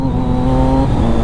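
A Triumph Daytona 675 motorcycle at full throttle in a short gear on a highway, a loud, steady high-revving engine note running close up and continuously for about a second with no talking.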